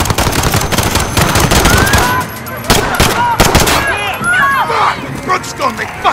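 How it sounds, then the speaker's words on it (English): Rapid gunfire from a Call of Duty Modern Warfare firefight, loud automatic bursts and single cracks stacking close together, with shouting voices and sirens mixed in. "Shots fired"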